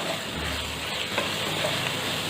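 Pointed gourd with spices being stirred in a hot pan, a steady sizzle with soft scraping of the spoon, close and continuous, no voices.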